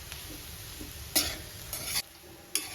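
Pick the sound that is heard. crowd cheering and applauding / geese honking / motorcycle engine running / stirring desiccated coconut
stirring desiccated coconut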